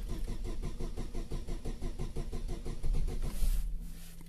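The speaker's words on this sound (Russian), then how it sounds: "будем пробовать запускать, заводить наш двигатель" A car engine running on alcohol-blended BRSM petrol in mild, above-freezing snowy weather, cranking in rapid even pulses for several seconds before catching into a rougher, louder idle; close by, with no talk.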